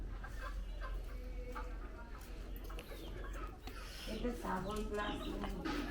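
Chickens cluck faintly in a dairy farm house, mostly buried under people talking nearby and a low steady background hum.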